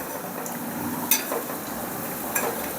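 A bread crumb and onion snack fries in oil with a soft, steady sizzle, broken twice by sharp metallic clinks of a utensil.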